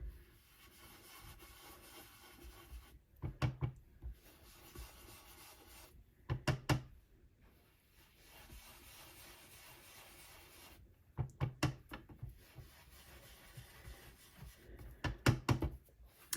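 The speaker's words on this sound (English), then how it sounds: "we're going to be adding the different colours of the cards, different colour ink to the cardstock with the blending brushes" Blending brushes work ink onto cardstock in soft repeated rubbing passes, with clusters of quick dabbing taps close by and quiet pauses between bursts.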